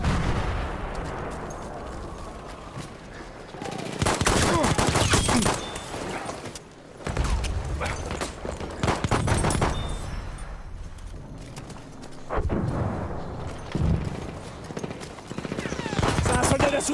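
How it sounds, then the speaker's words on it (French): Enemy machine gun fire in a war video game, bursts of rapid loud shots alternating with heavier explosive blasts, coming and going in waves over a noisy battlefield. "Mitrailleuse ennemie."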